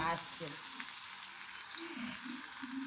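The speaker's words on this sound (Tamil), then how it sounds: "இப்போ காய் வைத்த ஆயில் எண்ணெயில் வந்து நம்ம வந்து வடையை வந்து விட்டுக்கலாம்" Urad dal vada with drumstick leaves frying in hot oil gives a quiet, continuous bubbling sizzle, with a brief voice near the start.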